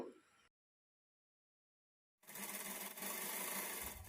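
A sewing machine stitching thread piping into cloth for a blouse, starting with a brief burst, falling silent for nearly two seconds, then running in a steady, loud, continuous whir close by.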